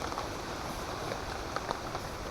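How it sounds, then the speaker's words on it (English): Rain drums on a camping tent during a storm, a constant close patter with scattered louder drops and no speech. "I woke up when I filmed a few seconds of the sounds of the rain"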